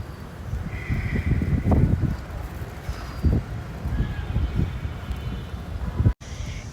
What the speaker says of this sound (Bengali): বাতাসে ফুলগুলো দুলছে বাতাসে